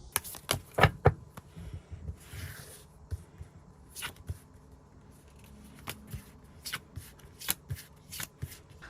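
Tarot cards are shuffled and drawn by hand during a reading, a series of crisp riffling bursts and sharp slaps in an uneven rhythm, close and fairly quiet, with no talking.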